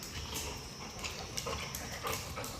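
Guard dogs at a rural spot in North Bengal's Darjeeling hills, heard as soft panting and faint whimpers against quiet background noise, close but low in level, with no talking.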